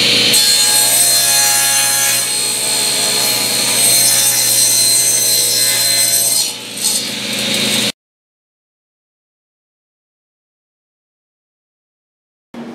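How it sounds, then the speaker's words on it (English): Table saw cutting a bevel angle along the inside edges of wood pieces, a loud steady whining cut for about eight seconds, then silence until the motor briefly returns at the end. "I'm going to go over to the table saw and I'm going to cut an angle off on the inside edges of these"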